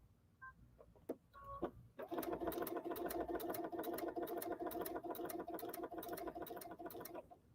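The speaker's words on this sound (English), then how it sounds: "So you can see it's sewing sideways" A sewing machine stitching fabric sideways, starting with a few clicks and then running as a steady fast mechanical whir with rapid ticking, close and continuous, with no voices.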